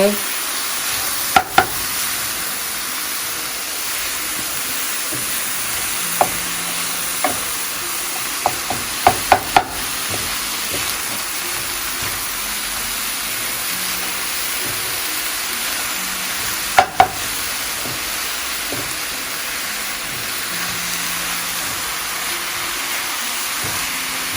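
Sweet sago filling with sugar stir-fried in a pan gives a steady hissing sizzle, with a few sharp utensil clinks against the pan now and then.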